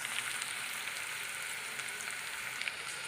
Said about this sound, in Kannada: ಇದು 1 ನಿಮಿಷಗಳ ಕಾಲ ಇದು ಎಣ್ಣೆ ಒಳಗೆ ಫ್ರೈ ಆಗಲಿ.